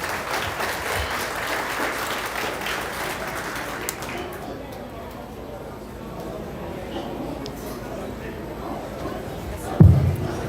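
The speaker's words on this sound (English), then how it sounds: "One more round of applause for these exhibitors." Applause for exhibitors at a swine show, a crowd clapping steadily in an arena, strong at first and thinning midway into softer scattered claps and murmuring, with a brief thump near the end.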